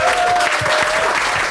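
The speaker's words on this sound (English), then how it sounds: "Big round of applause to the Cabbage Patch and all the staff here." A room full of people claps steadily at the close of a British and Irish Lions rugby discussion event, continuous dense applause with a faint tonal whine running underneath.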